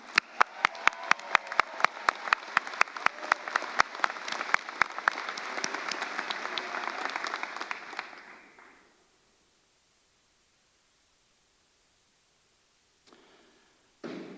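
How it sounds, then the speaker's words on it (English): Audience applause at a university architecture school commencement ceremony, with sharp individual claps up front swelling into dense, steady clapping for several seconds, then fading out to silence before a brief faint rustle at the end. "Please give these students a round of applause."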